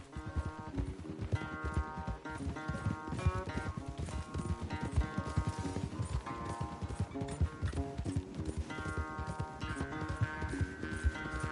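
Horse galloping in a race in the video game Red Dead Redemption 2: rapid rhythmic hoofbeats running throughout, set against loud game music.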